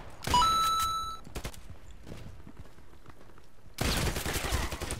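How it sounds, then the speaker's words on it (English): Shotgun blasts from an MP-133 in the shooter game Contract Wars: one sharp loud report near the start, a few fainter shots after, then a dense burst of gunfire at the end. "Come on, powerful shotgun."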